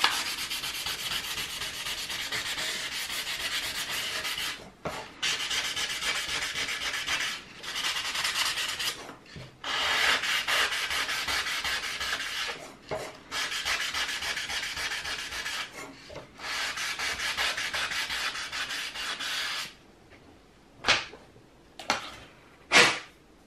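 A tweeter membrane is scuffed by hand before gluing, making steady, close abrasive rubbing strokes in long sustained bursts with brief pauses, ending in a few short quick scrapes.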